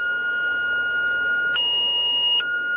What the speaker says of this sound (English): the alarm has been yelling for the last 2 minutes, and nobody is responding to the alarm